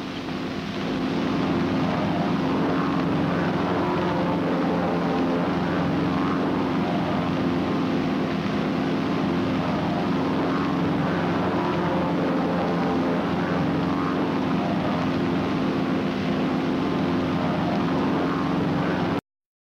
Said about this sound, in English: Three planes in a parade V formation.